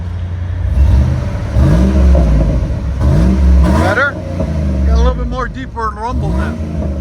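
A 2004 Chevy Avalanche Z71 with a 5.3L V8 and Flowmaster Super 10 exhaust rumbles deep and steady nearby, with revs rising and falling, while someone talks over it.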